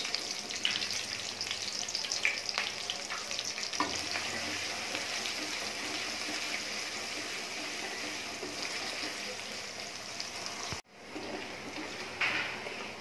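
Chopped onions fry in oil with bay leaf, cloves, cinnamon and peppercorns, giving a steady close sizzle with stirring scrapes that runs continuously apart from one brief break.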